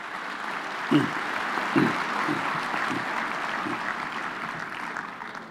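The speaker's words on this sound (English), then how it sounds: "let's give them another deserved round of applause." Graduation ceremony audience at the University of the Free State applauding performers, a steady, moderately distant wash of clapping with a few louder bursts near the start.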